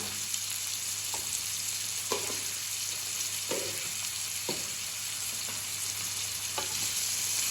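A curry seasoned with salt and turmeric is stirred in a pan over a steady broadband sizzle, with several soft scraping strokes spaced a second or so apart and a low constant hum beneath.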